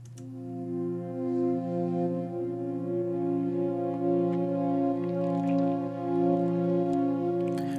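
Two layered synth pads in an Ableton electronic track, built in the style of Afterlife, hold steady, sustained chords together, with a warm, full low body and soft shimmer above, played alone at a moderate level.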